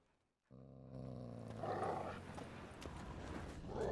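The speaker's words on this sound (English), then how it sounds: "Just beware of the dogs." Dogs growl in The Witcher 3 video game, a low rumbling snarl that rises over sustained tonal game ambience and continues steadily at moderate loudness, with no speech.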